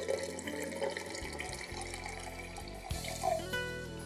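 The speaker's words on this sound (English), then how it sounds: "So I'm going to go ahead and add water to my seeds." Water runs into a mason jar of sprouting seeds, a steady splashing pour with brief tonal gurgles partway through. It sounds close and moderately loud, with no one talking.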